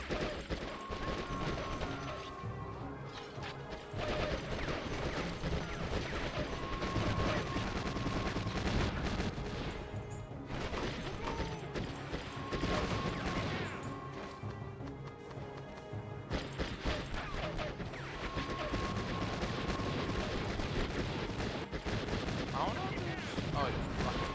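AK-47 assault rifle fire in the Conflict: Desert Storm game, steady dense gunfire and battle noise running continuously throughout, loud and constant with no clear pauses.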